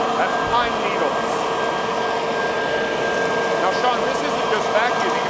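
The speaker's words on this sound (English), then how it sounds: "it's grinding everything up, churning it down into nice small pieces" Close and loud, a leaf vacuum mulcher grinds grass clippings, its motor whining and air rushing without a break, with faint rattling bits of debris passing through.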